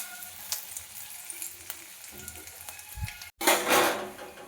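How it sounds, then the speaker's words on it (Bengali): Whole spices, panch phoron, cumin seeds and dried red chillies, go into hot oil for chole bhature. A faint crackle and light clinks come first, then a loud, close sizzle bursts up near the end. "তেলের মধ্যে দিয়ে দেবো সামান্য পরিমাণে 5 ফোড়ন, সামান্য গোটা জিরে, শুকনো লঙ্কা,"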